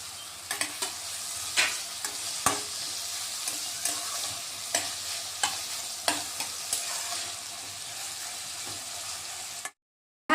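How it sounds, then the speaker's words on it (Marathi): Diced potato and tomato sauté in hot oil tempering for poha, a steady sizzle broken by regular scraping stirs of a spoon against the pan, close and clear with no speech. "आता चांगले परतून घ्यायचे फोडणीत."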